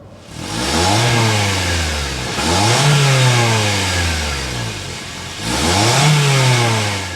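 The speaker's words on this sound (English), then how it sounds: "start it up so you can hear that exhaust note" A 2024 Toyota Corolla Hatchback engine revs up three times in a row, each rise climbing in pitch then dropping back, loud and close with a throaty exhaust.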